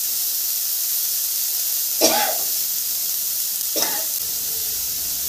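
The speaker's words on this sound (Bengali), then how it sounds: "পেঁয়াজটা ভাজবো, খালি একটু কাঁচা গন্ধ বেরিয়ে যাবে।" Onions frying in a pan over high gas heat for paneer cutlets, a steady broadband sizzle throughout with two short louder scrapes or stirs, no voices.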